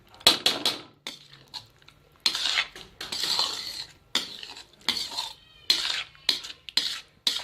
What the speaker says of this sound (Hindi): चम्मच को यूँ हमने चलाना है।